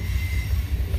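Freight train heading to Memphis, passing on a rail line near North Little Rock, Arkansas: a steady, loud, close rumble with a high metallic wheel squeal running throughout.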